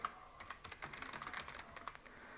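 Rapid keystrokes on a computer keyboard while a number is entered for a program's input prompt, an uneven run of light clicks at moderate level with no talking.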